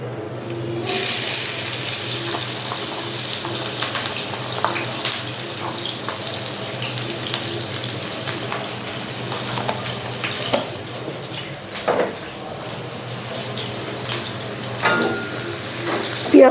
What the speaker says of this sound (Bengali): পেঁয়াজটা এখন আমি ভেজে নেব।